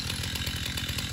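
A chainsaw idles and runs roughly while warming up before cutting trees in a backyard food forest, with a steady throbbing low engine pulse and a buzzing exhaust tone, close and loud throughout.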